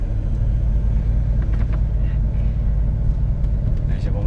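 A Hummer rolling off as the driver gently eases off the brake, a steady low engine and road rumble filling the interior throughout, with brief higher squeaks and noises above it.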